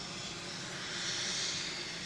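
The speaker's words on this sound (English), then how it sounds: "it's a very long spool up on the 330" Jet engines of an Airbus A330 at Manchester Airport spool up with a faint, distant, broadband roar that swells slightly and holds steady over a couple of seconds.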